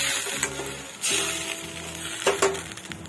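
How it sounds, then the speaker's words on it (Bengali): Mango pieces sizzle and fry in oil with panch phoron and dried red chillies, stirred with a few clinks and scrapes over a steady crackle, close and moderately loud, with no talking. "তেলের মধ্যে পাঁচফোড়ন আর শুকনো লঙ্কা দিয়ে আমগুলো দিয়ে নাড়াচাড়া করছি"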